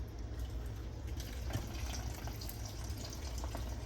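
Tap water runs steadily over peeled garlic cloves in a kitchen sink, a continuous close splashing gush with faint drips, moderately quiet and with no voices.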